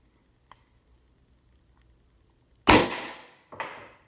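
An HPA-powered First Strike riot ball launcher with a short stubby barrel fires one sharp, loud close shot after a quiet pause, followed by a second fainter report.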